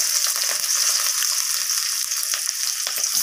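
Chopped onions sizzle steadily in hot oil alongside a cracked dried red chilli and a bay leaf, for a cauliflower and egg dish; a dense, continuous close-up frying hiss with faint stirring clicks.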